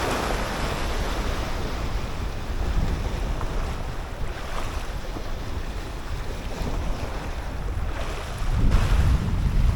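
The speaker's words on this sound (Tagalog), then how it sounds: "malalaki yung mga alon mga pre" Large ocean waves roll onto a beach in a continuous roar of surf and wind, rising into a heavier crash near the end, with no one talking.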